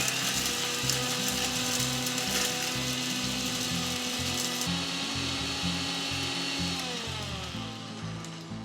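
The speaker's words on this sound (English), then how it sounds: "Now let's grind this to a fine powder." A spice grinder whirs loudly and steadily, pulverising peppercorns, cloves, a cinnamon stick and turmeric into fine powder, its motor tone pulsing rhythmically and easing slightly toward the end.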